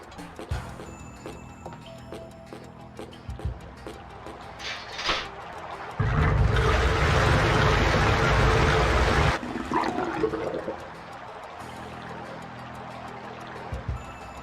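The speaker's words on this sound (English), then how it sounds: "Like somebody flushing a toilet." Rushing water in the Grandia II game on PS2 sounds like a toilet flushing: a loud, steady gushing that lasts about three seconds, then drops back to a quieter background with faint clicks.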